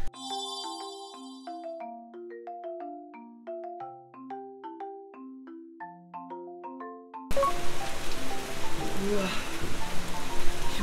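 Rain falls outside a villa sauna, a dense steady patter that follows a melodic chime-like tune playing alone for the first seven seconds.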